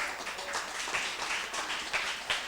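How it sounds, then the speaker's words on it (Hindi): Audience applause at a special 26 January church meeting, steady dense clapping from many hands throughout, fairly even in level with a few louder swells. "जोर से ताली बजा सकते हो"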